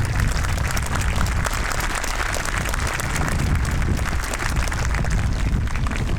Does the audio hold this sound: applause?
yes